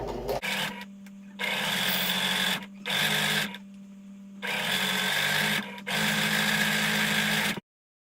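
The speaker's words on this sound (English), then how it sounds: "I am going to be stitching just about 1/8 from the edge here inwards." A sewing machine stitches fabric for a pillow in several bursts of rapid mechanical whirring, each lasting one to two seconds, separated by short pauses, close and fairly loud.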